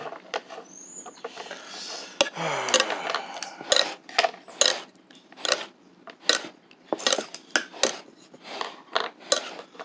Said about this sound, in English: Try stirring it up.